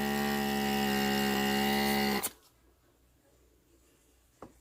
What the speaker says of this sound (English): now it's time to vacuum out that air.